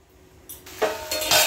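Meat and potatoes being sautéed and stirred in a pan, a few short scraping and clinking strokes of a utensil against the pan over a faint background hiss, close and fairly quiet.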